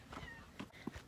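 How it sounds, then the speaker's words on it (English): A cat on a farm in East Africa gives a few short, faint meows within about a second, quiet and close-by. "Oh, it's a cat."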